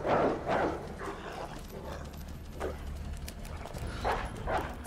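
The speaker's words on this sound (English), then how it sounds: "Okay, dog's just gonna bark at me." A dog barks in Resident Evil 2 in several sharp, fairly loud bursts, some in quick pairs, over steady low game ambience with no talking.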